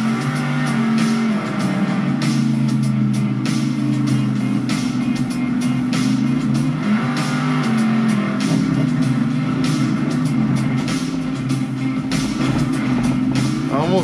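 Toy RC car running at full speed around a track, its electric motor a continuous buzzing whine that rises and wavers slightly as it laps, loud and steady throughout with no pauses.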